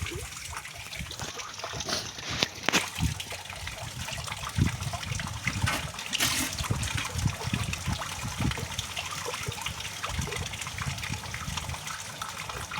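Liquid plant medicine is mixed with water in a can, giving a continuous close sloshing and gushing of water with a few sharper splashes and knocks along the way.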